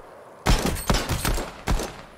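Three quick pistol shots ring out in a video game, loud and close with short reverberant tails, the first two close together and the third after a brief pause.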